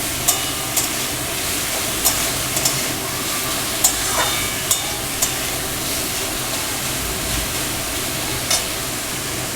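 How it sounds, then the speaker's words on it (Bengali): Potatoes being stirred in a pan as the filling for Mughlai paratha is cooked, with a steady low sizzle and faint scraping clicks from the spoon recurring every second or so. "একটু আলুটা আগে একটু নাড়াচাড়া করে নেব যাতে একটু নরম হয়ে যায়"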